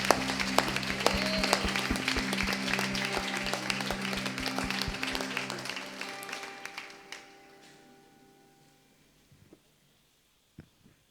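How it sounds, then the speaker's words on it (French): A church congregation applauds loudly at a bilingual Sunday service, the dense clapping holding steady for about six seconds before fading into a few scattered claps and near silence. "Acclamons fort pour le Seigneur."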